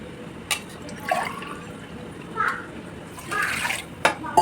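Water splashes and pours in a few short bursts into a pot of mutton biryani with coriander leaves, intermittent gurgles with quiet gaps between.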